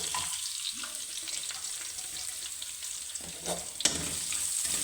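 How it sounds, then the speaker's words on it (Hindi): Chopped onion frying in hot ghee, a steady broad sizzle with a few scraping stirs near the end, close by with no talking. "अब घी गर्म है, उसके अंदर हम प्याज डालेंगे।"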